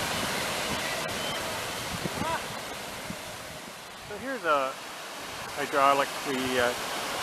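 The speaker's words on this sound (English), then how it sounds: "here's a hydropower station, and this is a good example of these little power stations that are all along the Trent." Water rushes steadily through a small hydropower station on the Trent-Severn Waterway, a constant broadband roar with someone talking briefly over it near the end.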